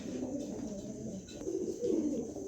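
A pair of pigeons, a male and a female, coo softly in low, murmuring tones that continue for a couple of seconds, fairly faint and close.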